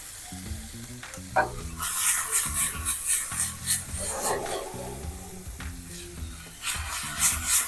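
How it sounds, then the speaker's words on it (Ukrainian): Tuna seared in a hot frying pan, a close, bright sizzle that swells and fades as the fish is moved, under light background music with no speech. "ще підсмажимо нашого тунця, але прожарочка тут повинна бути не well done"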